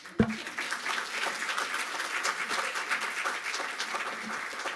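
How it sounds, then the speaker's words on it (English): An audience applauds after a speaker's remarks at a lecture on re-globalization, opening with one sharp nearby clap before a steady, moderate wash of many hands clapping continues without pause. "I think I need to clap for this."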